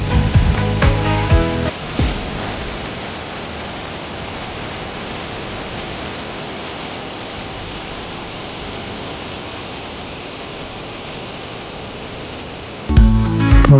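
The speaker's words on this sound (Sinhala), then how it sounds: "ඔන්න ඉතින් මේ තමයි තියෙන්නේ නලගන ඇල්ල." Nalagana waterfall near Dolosbage pours in a steady, dense roar of falling water that fills the scene without a break, with louder, fuller sound briefly at the very start and end.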